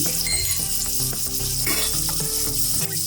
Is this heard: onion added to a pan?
yes